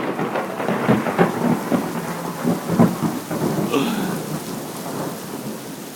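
Heavy rain pours steadily through a thunderstorm during a tornado warning, with deep rolling thunder rumbling repeatedly beneath the constant hiss of the downpour.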